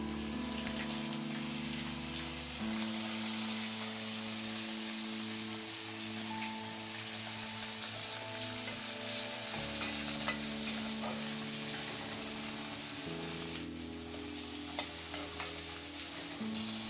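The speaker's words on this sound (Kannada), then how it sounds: "1-2 ನಿಮಿಷ ಈರುಳ್ಳಿಯನ್ನು ಚೆನ್ನಾಗಿ ಫ್ರೈ ಮಾಡಬೇಕು." Finely chopped onions fry in hot oil in a steady, even sizzle, a soft continuous crackle with background music playing and no talking.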